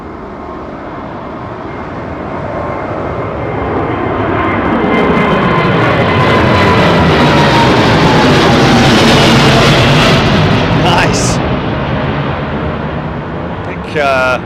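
A jet airliner takes off from runway 09R at London Heathrow Airport. Its engine roar swells to a loud peak over several seconds, then slowly fades, and a voice is heard toward the end.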